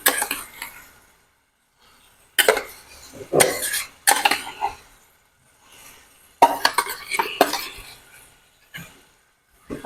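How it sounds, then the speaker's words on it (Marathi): A spoon scrapes and clinks against a pan as mashed eggplant bharit is mixed over a wood-fired chulha. Intermittent clattering strokes come in bursts with brief pauses, and a cough or two is heard close by. "आता आपलं वांग्याचं भरीत टाकून झालं. आपण चांगलं असं मिक्स करून घेऊ."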